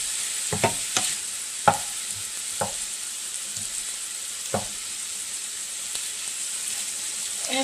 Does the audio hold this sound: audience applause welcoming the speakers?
no